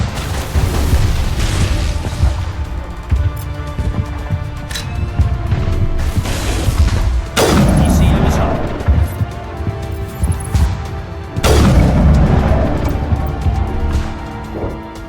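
Heavy explosions boom and crash as targets are destroyed in the video game Mass Effect, with a continuous loud rumbling bed and two especially big, sharp blasts standing out.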